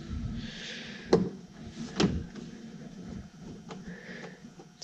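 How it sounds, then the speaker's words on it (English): A cover pops off the front door panel of a VW Westfalia bus, two sharp plastic clicks a second apart amid faint handling noises. "This cover pops off to again reveal your Phillips screw."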